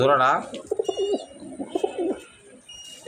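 Budapest racing pigeons coo softly at close range in a few short, warbling phrases. A brief louder call comes first, with faint background chirps.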